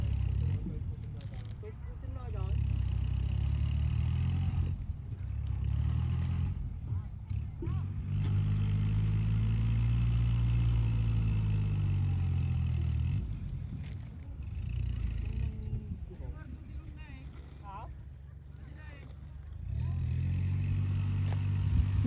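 A tractor engine runs while stuck in mud on a rural onion farm, giving a steady low rumble that swells and revs under strain. People talk over it, with shouts and movement nearby.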